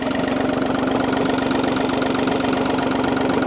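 Steady, close idle of an Audi A2 car engine just after a service, an even rhythmic thrum with a faint regular tick, running alone without voices.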